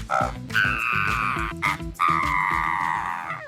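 A rhythmic series of croaking, toad-like calls imitating a narrow-mouthed toad, repeated in quick pulses with a couple of brief pauses, loud and close.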